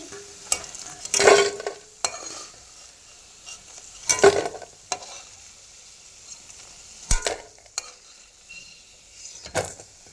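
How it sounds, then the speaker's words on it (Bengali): Deep-red fried lentil fritters being lifted out of hot oil into a bowl, bursts of crackling sizzle and scraping clatter at intervals amid quieter stretches, with no voices. "এখানে বড়াগুলো ভালো করে লাল লাল করে ভেজে নিয়েছি এবার তুলে নিচ্ছি একটি বাটিতে"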